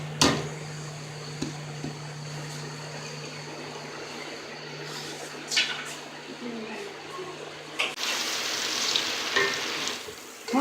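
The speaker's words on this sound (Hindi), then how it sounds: "बस आयल गर्म हो गया, नाल प्याज डाल दूँगी।" Onions hit hot oil in a pan for baingan bharta, giving a close, steady sizzle over a low hum that swells into a louder, brighter crackle near the end, with a few knocks along the way.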